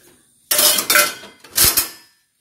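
A plate is picked up in a kitchen where pasta cooks on the stove, with two bright bursts of ceramic clatter as dishes knock and clink together, close and fairly loud, with no voices.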